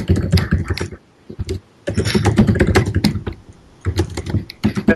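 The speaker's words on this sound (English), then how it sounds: "He's typing." Rapid typing on a computer keyboard, dense bursts of quick key clicks close by, broken by short pauses, with no talk over it.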